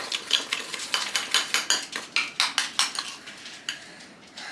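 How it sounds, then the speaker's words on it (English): Utensil scraping and clinking against a pan as food is stirred, a quick run of about fifteen rhythmic, close strokes that slow and thin out toward the end. "We'll stir."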